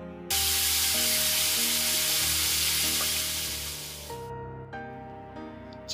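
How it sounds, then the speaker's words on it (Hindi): Marinated chicken hitting hot oil, a sudden loud hissing sizzle that gradually fades over several seconds, set against steady background music, with no talking. "तेल के गर्म होने पर मैरिनेट किया गया चिकन ऐड करेंगे और इसे अच्छी तरह से फ्राई कर लेंगे।"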